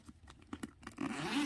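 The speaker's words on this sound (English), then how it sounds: "And then this is the zipper." Zipper on a handbag being pulled: a few soft clicks and ticks, then a quick close rasping slide that grows louder at the end, quiet and alone.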